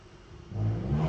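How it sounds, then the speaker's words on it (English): A motorcycle engine revs outdoors, starting as a faint background hum and swelling into a loud, sustained low growl over about a second. "Someone has a motorcycle."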